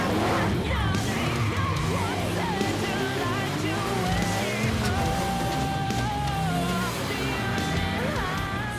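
A 4WD engine revs and labours climbing slowly over rocks, with creaks and scraping; faint voices in the background.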